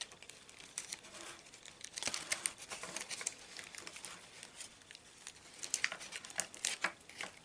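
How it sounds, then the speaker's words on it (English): Tape is torn and stuck down on a homemade Red Dragon Thunderzord puppet, heard as quiet, close crinkling, rustling and patting in irregular bursts with no speech. "So get another bit of tape, stick it"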